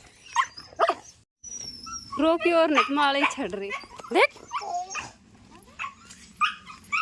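Two dogs fight with yelps, whimpers and sharp barks in bursts, close by, while a person talks between and over the noise.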